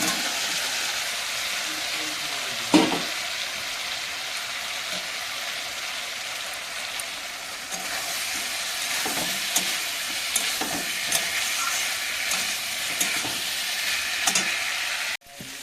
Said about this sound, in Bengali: এবারে আলুগুলো দিয়ে দেবো।